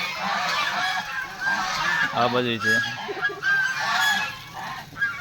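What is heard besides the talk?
geese honking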